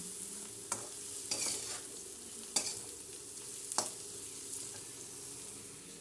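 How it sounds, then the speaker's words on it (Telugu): Soy chunks tossed into a curry pan, with a soft steady sizzle underneath and a few sharp scraping stirs of a spoon against the pan, heard close and alone. "ఇప్పుడు మనం మీల్ మేకర్ వేసేసుకుందామండి."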